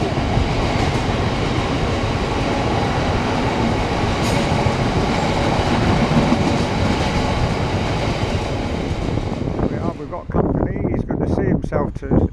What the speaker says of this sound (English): I thought you meant there's a train coming